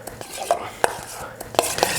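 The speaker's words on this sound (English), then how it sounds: "We can just give that a mix." A noodle dressing of palm sugar and Indonesian soy sauce is mixed in a bowl, with a few light scrapes and clinks of a utensil against the dish, fairly close and quiet.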